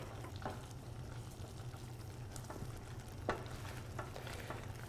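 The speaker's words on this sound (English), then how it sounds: "So we're just going to keep stirring and stirring." Risotto being stirred in a pan on the stove, made from pantry ingredients with soup as the base, giving a steady low sizzle and bubbling with occasional scraping clicks of the spoon, close and continuous with no talk.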